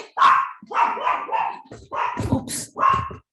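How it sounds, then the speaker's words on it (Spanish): A small female dog barks in a run of sharp, loud yaps, about five bursts spaced unevenly, close by indoors. "tengo aquí a una perrita un poco inquieta"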